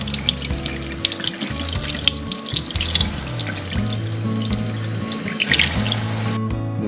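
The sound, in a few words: rinsing salmon fillets under running tap water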